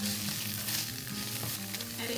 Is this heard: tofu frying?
yes